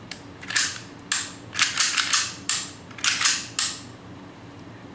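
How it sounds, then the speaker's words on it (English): WE M&P pistol fitted with a full-auto slide on a semi-auto frame, fired in testing: several rapid bursts of sharp, close cracks with mechanical clatter, separated by brief pauses. "Okay, we fire 4 rounds and it works perfect."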